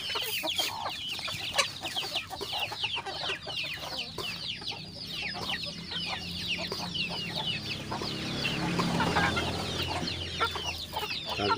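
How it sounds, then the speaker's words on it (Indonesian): A flock of chickens in a coop cluck and chatter continuously while pecking at feed, a dense, busy chorus of overlapping calls close by throughout. "lihat ayam makan begini nih"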